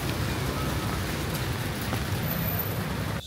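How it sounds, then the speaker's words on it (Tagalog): Sudden rain falling on a rainy day in Manila, a steady dense hiss of drops that holds evenly throughout with no voices. "Biglang umuulan na."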